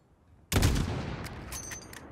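A single sharp rifle shot cracks in Call of Duty: Modern Warfare after a quiet pause, then a long echoing tail fades out, with faint clicks near the end.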